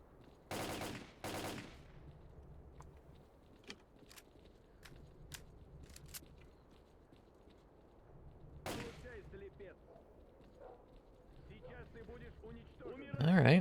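A gun fired in a video game at an enemy camp: two short, close bursts of shots early, then another burst after a long lull, set against quiet ambient game noise.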